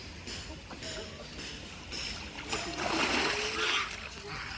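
Splashing as people duck under in open water near a border area, choppy bursts of churned water with voices in the background.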